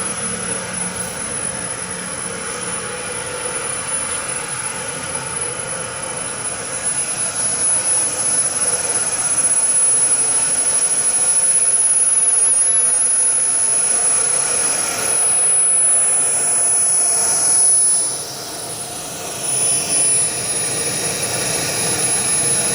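A foam model jet's turbine engine runs steadily with a loud, continuous whine and roar, a high-pitched tone holding throughout and surging slightly midway, with no talking.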